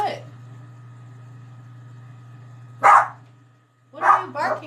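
A pet dog named Maggie barks indoors with sharp, close, loud yaps: one single bark, then a quick double bark, over a steady low household hum.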